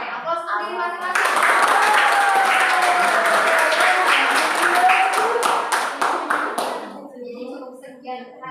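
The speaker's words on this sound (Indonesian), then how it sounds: "oke, aplaus untuk diri masing-masing" Students in a classroom clap for themselves at the end of an Arabic lesson, a dense burst of applause lasting several seconds that thins into scattered claps, with a teacher's voice heard before and after.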